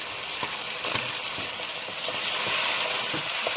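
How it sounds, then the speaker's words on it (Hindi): Chopped tomatoes with salt frying in a pan for mutton pulao, a steady dense sizzle close up with faint stirring scrapes and no talk. "इसी तरह भूनना है इसको।"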